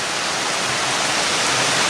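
Water pours steadily out of a drain hole in a concrete retaining wall beside a trail near the Cascade Tunnel, a loud, unbroken rushing splash with no talking.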